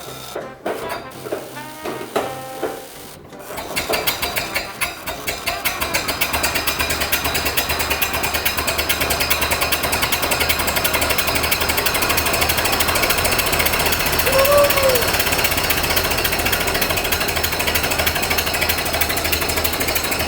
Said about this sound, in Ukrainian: зараз безпреривно працює іскра на одній свічці